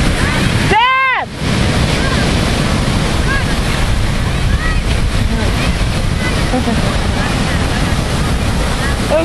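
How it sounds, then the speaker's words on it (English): Ocean surf and gusting wind on the beach at Ocean City, Maryland, a loud constant roar with wind buffeting the microphone and a voice calling out briefly near the start. "we're at the beach at Ocean City, Maryland"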